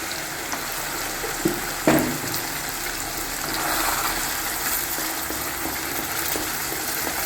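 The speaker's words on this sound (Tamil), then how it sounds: "இது லைட்டாக வதங்கினோடனே நம்ம அரைச்சி வச்சிருந்தோம்லங்க, அதை ஊற்றிடலாம்" Ground masala paste poured into garlic and small onions sautéing in a pan for kuzhambu, giving a steady close sizzle with a brief splash and stirring clatter early on.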